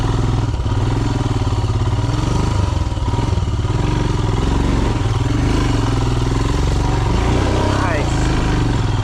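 Royal Enfield Himalayan motorcycle crawling slowly over a rocky singletrack trail in Montana, its single-cylinder engine chugging steadily at low revs with clatter and thumps from the rocks, up close and continuous, with a rider talking over it.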